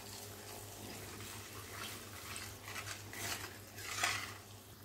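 Asafoetida is stirred into a tomato pickle mixture with a spoon. Soft scraping and wet swishing strokes build in bursts toward the end, over a steady low background hum.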